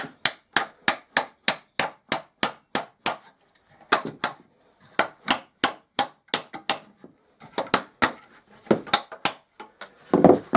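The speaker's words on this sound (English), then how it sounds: "getting a hammer and just clouting the wedges" Sharp hammer blows knocking wooden wedges tight to clamp a small glued-up panel without clamps, a fast run of evenly spaced taps, a pause, then more bursts of strikes, close and crisp.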